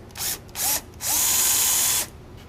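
Power drill boring into mild steel without cutting oil, three bursts of high-pitched whine: two short ones, then a longer sustained run lasting about a second, loud and close.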